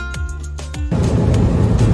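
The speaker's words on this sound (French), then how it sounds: "On fait un petit peu de tuk-tuk pour revenir de la ville de Mochi." Ride in a tuk-tuk through traffic in Tanzania, near the town of Moshi: a rumbling motor drone and passing-vehicle whoosh, with a couple of short horn toots at the start, fairly loud.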